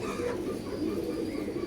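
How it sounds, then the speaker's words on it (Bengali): A pet pigeon coos softly and continuously at close range, a low throaty murmur that holds steady throughout. "আমার পছন্দের 2টা কবুতরের 2 নম্বর কবুতরটা এটা"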